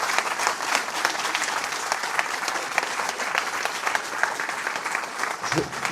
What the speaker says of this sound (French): je vous demanderai d'applaudir notre maire.